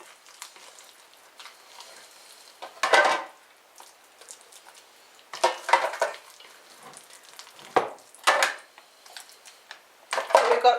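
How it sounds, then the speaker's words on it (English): Christmas pudding mix is scooped into a basin in a series of soft, wet scraping and plopping bursts, close by, separated by quiet pauses. "So I'm scooping my mix in."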